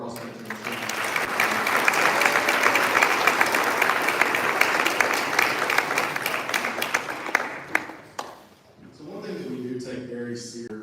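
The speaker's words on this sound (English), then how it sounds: "So please give one more round of applause for our cross country team." Sustained applause for a cross country team at an athletic banquet, many hands clapping loudly and evenly for about eight seconds before fading out, followed by a voice speaking.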